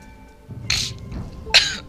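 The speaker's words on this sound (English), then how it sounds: "I find that I cough in like every single episode" A person coughs twice, close and fairly sharp, each burst short and breathy with a brief pause between, against quiet background.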